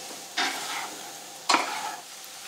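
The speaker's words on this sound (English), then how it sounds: "now toss the mushrooms until they are well coated with the butter and oil" Shiitake mushrooms tossed in butter and olive oil in a hot skillet give two separate bursts of stirring and sizzling, each fading into a steady low fry between them.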